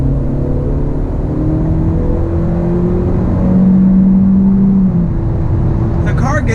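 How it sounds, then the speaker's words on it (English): A 2019 Honda Civic Sport Touring hatchback with a turbocharged engine accelerates, its steady engine drone rising slightly in pitch and growing louder midway through, heard from inside the cabin. "let me go ahead and do a little acceleration."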